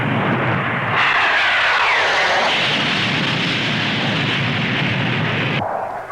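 A jet aircraft roars past at the 1950 Farnborough air show, a loud sustained broadband rush that swells and sweeps in pitch as it passes, then drops away abruptly near the end.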